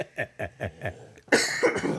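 Four short, harsh bursts in a quick regular rhythm, then a longer noisy hacking burst; close and fairly loud, sounding like coughing.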